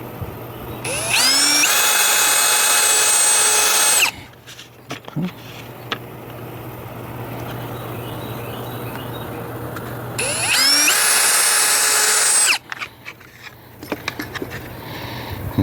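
A power drill boring two screw holes in a Kydex sheath, in two loud sustained bursts of about three seconds each, separated by quieter handling clatter and a steady fan hum.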